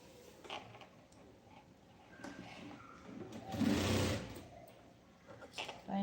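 Sewing machine stitching a lining onto main fabric from the top, a short burst of motor whir rising mid-clip amid quieter workshop noise and faint voices.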